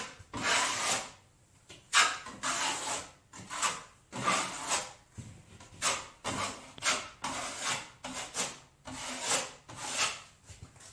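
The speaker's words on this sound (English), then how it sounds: "I'm going to lightly sand it" Joint compound on a wall being lightly sanded by hand during a repair of damage: rhythmic, raspy scraping strokes, close and steady, each stroke rising and fading with brief pauses between.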